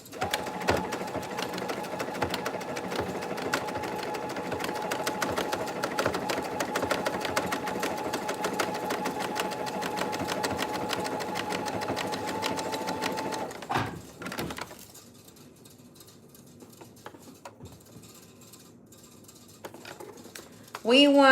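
A sewing machine runs continuously for about fourteen seconds, a close steady whirring hum of stitching, then stops, leaving quiet room noise and a brief sound at the end.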